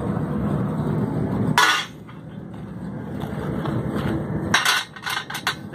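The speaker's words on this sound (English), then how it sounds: "we'll use the single jack hammer to do it." A single jack hammer strikes the front clevis of a military truck during forging, giving two heavy clanging blows and a few lighter taps over a steady workshop rumble.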